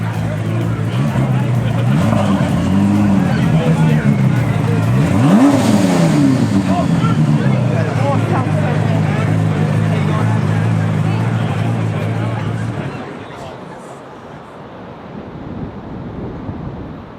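Race car engine at the Pikes Peak International Hill Climb revving loudly and steadily with rising and falling pitch sweeps, wind buffeting the microphone, then cutting off abruptly near the end, leaving quieter outdoor ambience.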